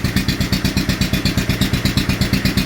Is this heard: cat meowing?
no